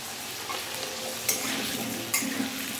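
Food sizzling in a pan as it is stirred, a continuous close frying hiss broken by two sharp scrapes of the utensil against the pan.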